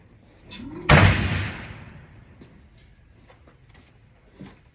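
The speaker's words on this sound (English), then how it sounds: "I'm gonna shoot it" A single loud gunshot at a shooting range, aimed at a target about 15 yards out, with a sharp crack and a long rolling echo that fades over a second or two. Quiet outdoor noise follows.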